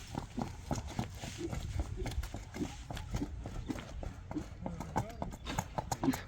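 A horse's hooves clop steadily as it walks nearby, an even, close rhythm of knocks that runs under someone talking throughout.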